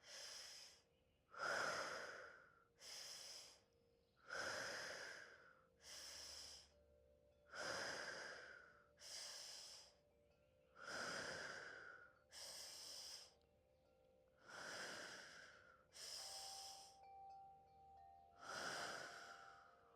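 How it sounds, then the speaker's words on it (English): Slow, deep breaths during a fascia and heart-opening movement class, about a dozen long inhales and exhales in a steady rhythm, close and clear with no talk. "6 big breaths."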